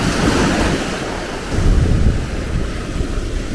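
Ocean surf in Cuba rolls and washes steadily, a broad roar with a swell building in the middle, mixed with gusts of wind buffeting the microphone.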